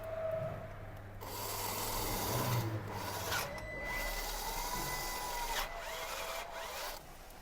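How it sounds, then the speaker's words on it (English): A drill bores out a damaged thread in the engine block of a Hyundai i10 during a cylinder head replacement, giving a close, steady rasping grind broken by a few short pauses. "So we're going to drill the hole slightly larger, put a threaded insert in it"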